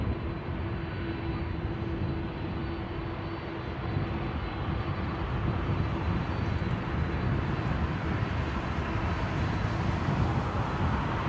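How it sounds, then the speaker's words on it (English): A jumbo jet with CF6 engines arrives on runway 27R, its engine roar a continuous, broad rumble that holds steady and fairly close throughout, with no talking. "I listen to these CF6s on this thing. Close your eyes and think of jumbo jet."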